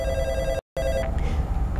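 A telephone rings in a studio setting during a finance program, a steady electronic tone that breaks off briefly and then resumes, loud and close with no talk over it.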